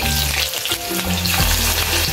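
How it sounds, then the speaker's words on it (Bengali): Green chillies fry in hot oil in a pan, giving a loud, continuous close-up sizzle with crackling spatters and a few stirring sounds, and no talk. "ফার্স্টে কাঁচা লঙ্কা দিয়ে দিবেন ওগুলো ভাজা হবে"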